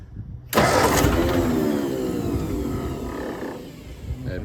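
A Ford 8N tractor engine catches after a moment of quiet and fires into a loud, rough run that settles toward an uneven idle, close to the microphone.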